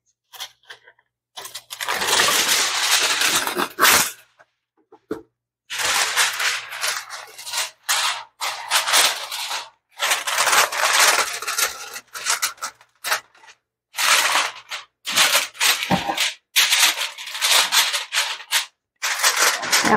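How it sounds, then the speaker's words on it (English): Aluminum foil is crinkled and pressed over a casserole dish, a long series of loud, close, crackling rustles in irregular bursts separated by brief pauses, with no talking. "I do need to cover it with some foil."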